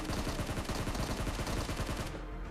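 Rapid automatic gunfire in PUBG Mobile during a solo-versus-squad fight, loud dense bursts of repeated shots rattling close by for about two seconds, then cutting off into quieter game ambience.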